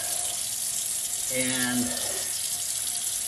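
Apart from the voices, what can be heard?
warm tap water running into sink during hand washing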